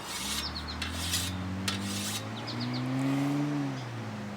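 A scythe stone is drawn along a scythe blade in steady, raspy strokes over the upward-facing side and then the side that rides the ground, with lowing cattle and distant rural noise close beneath.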